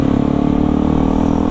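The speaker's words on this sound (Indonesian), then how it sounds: "Suaranya merdu nih motor." A Kawasaki ZX25 motorcycle engine on its stock exhaust, idling or held at steady revs close by, giving a loud, continuous, smooth hum with no talking.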